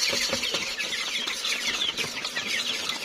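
Chickens cluck and chatter close by while feed is poured out for them, a busy continuous flock noise with soft rustling beneath.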